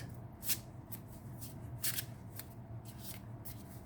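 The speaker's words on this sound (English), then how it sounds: "And let me pick a card." Tarot cards are shuffled by hand in a few quick riffling bursts, crisp papery flutters at a steady rhythm, close and fairly quiet, with no talking.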